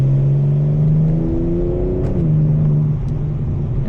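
BMW M4 Competition with a twin-turbo V6 engine and exhaust accelerating, a loud, steady engine drone whose pitch climbs and then drops with a gear change near the middle, heard from inside the car with no talking.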